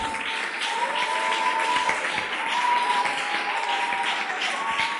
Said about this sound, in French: if you want to clap for God